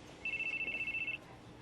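A telephone rings with a steady electronic ringtone in a quiet indoor room: one continuous pulsing burst of about a second, moderately loud, with no speech.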